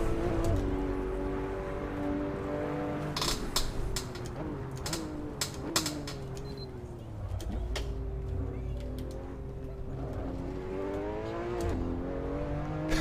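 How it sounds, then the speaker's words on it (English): An exotic car in the racing game Assetto Corsa accelerates hard, engine tone rising through gear changes with sharp shift clicks and bursts, loud and continuous. "Just incredible acceleration, man."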